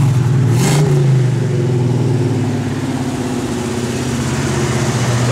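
A 1970 Buick Gran Sport with a lumpy cam idles close by, a loud, steady, loping rumble with a rhythmic uneven pulse throughout.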